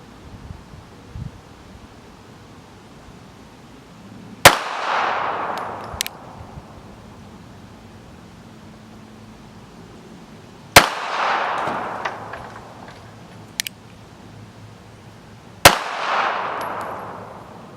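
Three loud, sharp gunshots spaced several seconds apart outdoors, each with a ringing, echoing tail and faint metallic clanks afterward as rounds hit targets.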